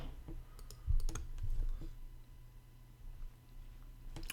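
Short bursts of computer keyboard typing while entering search keywords into Google's keyword tool, a few scattered clicks and keystrokes close up over a low steady hum, no talking.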